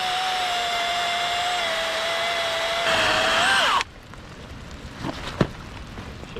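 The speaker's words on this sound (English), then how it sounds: "out here with his electric chainsaw cutting up some dead wood that was laying here" An electric chainsaw cuts dead wood outdoors for firewood, a steady, close motor whine that rises briefly, then cuts off abruptly, leaving quiet surroundings with a few faint clicks and knocks.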